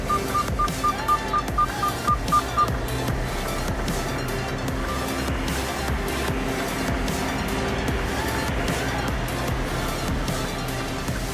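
A doubles semi truck rumbles steadily as it maneuvers to park a trailer beside another, with a brief series of backup beeps at the start over the constant engine drone.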